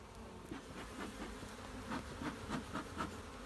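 Honeybees buzz steadily at close range while a hive's bottom-box frames are lifted during an inspection, a continuous low drone with a few slightly louder swells and no talking.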